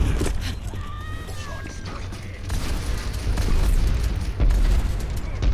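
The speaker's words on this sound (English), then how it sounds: "Enemy turret destroyed." An enemy turret blows up in the video game Overwatch, a loud booming explosion buried in dense, continuous game noise and rumbling effects, with no voices.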